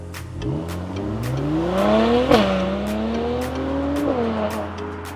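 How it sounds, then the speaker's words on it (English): A 2019 Mercedes-AMG C43 with a 400 bhp engine revs its exhaust, the pitch climbing and dropping over two rises with sharp crackles at the peaks, loud and close with a steady idle underneath. "the exhaust, it sounds amazing"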